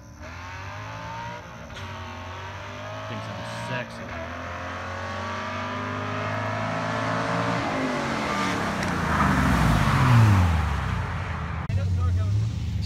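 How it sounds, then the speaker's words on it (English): Chevy Camaro and Honda street racing cars accelerate hard at a night street race, engines revving higher through the gears, building to a loud roar near the end, with crowd voices talking underneath. "These are some pretty quick cars that are racing tonight. But this race right here seems pretty cool. Let's hope the Chevy wins."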